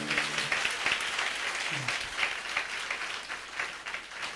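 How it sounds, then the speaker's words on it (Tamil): A church congregation claps for Jesus, sustained, fairly distant applause that rolls on evenly across the clip with faint voices mixed in beneath it. "நல்ல ஒரு கைத்தட்டி இயேசுவுக்கு."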